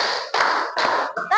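A class of schoolchildren claps in rhythmic bursts, three sharp blocks of group clapping separated by brief pauses, close and loud, with a quick final burst.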